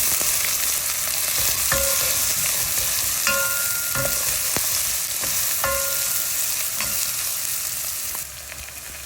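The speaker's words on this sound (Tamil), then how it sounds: "நாங்கள் இடித்து வச்சுருந்த இஞ்சியும் உள்ளியையும் அதில் போட்டு நல்லா மிக்ஸ் பண்ணி வதக்கி விடுவோம்" Onion sautéing with crushed ginger and garlic in a pan for a crab gravy, a loud, close, continuous sizzle with repeated scraping strokes and clanks of a metal spoon stirring, easing off slightly at the end.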